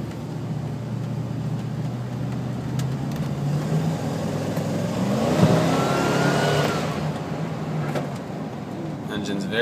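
A large Chevrolet van engine accelerates while driving: a steady mid-range hum that swells and climbs in pitch around the middle, then settles back, running continuously inside the cabin.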